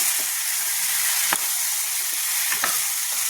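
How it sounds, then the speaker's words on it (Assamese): Cauliflower being stirred with masala in a hot pan: a steady close sizzle of frying runs throughout, with two sharp scrapes of the spoon against the pan, no voices. "এতিয়া ধুনীয়াকৈ মছলাখিনি লগত লাগি যাবলৈ কাৰণে ফুলকবিখিনি মই লৰাই দিছোঁ"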